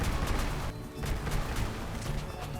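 Rapid weapon fire from a Crossout vehicle-combat game, with a Helicon hover craft shooting at bots: repeated sharp bursts over a steady low mechanical rumble, fairly loud and continuous across the whole stretch.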